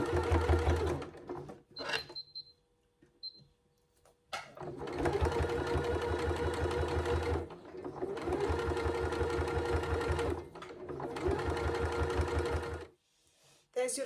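A sewing machine top stitches around a zip pouch in long, steady mechanical bursts separated by short pauses, close and clear.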